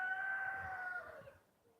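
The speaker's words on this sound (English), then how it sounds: "The rooster." A single rooster crow rings out, a drawn-out tonal call that holds and then fades, moderately loud and alone.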